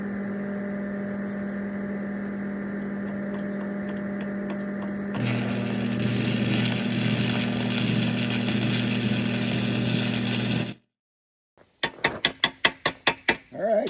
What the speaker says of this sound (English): see if I remember a little bit about how to weld